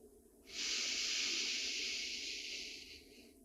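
Long, steady exhale through the nose or mouth during yoga breathing, a close breathy hiss of about two and a half seconds that fades out gently.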